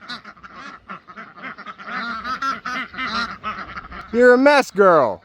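Muddy farm ducks quack and chatter in short nasal bursts close by, louder toward the end, while a person speaks over them.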